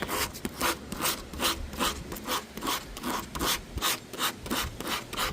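Sandpaper rubbed by hand over real wood edge banding on Baltic birch plywood, a close, rhythmic scratchy rasp of quick back-and-forth strokes, roughly three per second, steady and alone.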